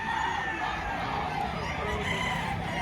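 Rooster crowing at a chicken market in Padre Garcia, Batangas, one sustained crow over constant market noise and distant chatter.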